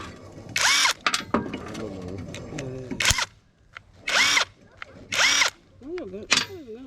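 A power drill drives screws out of the blade spindles on a Craftsman riding mower deck, giving several loud, short whirring bursts with brief pauses between them, close by.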